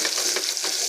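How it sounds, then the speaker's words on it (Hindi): Green chillies and spices sizzle and fry hard in hot ghee, a loud, steady crackling hiss with no pauses. "अब ये हम सारी हरी मिर्चें इस घी के अंदर डालेंगे"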